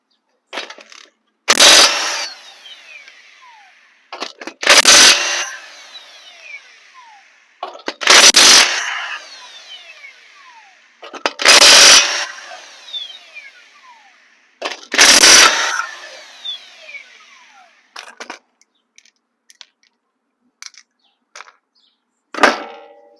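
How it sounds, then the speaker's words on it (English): Bolts are removed from the front strut assembly of a Toyota Camry with a 21mm socket. Five loud, rattling powered bursts of about a second each come at a steady interval, followed by quieter clinks and taps. "Now we're just going to use a 21mm socket here to remove the bolts."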